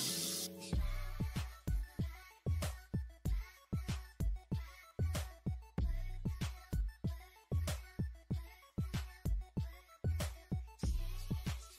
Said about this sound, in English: I have to put some water in. Spray water.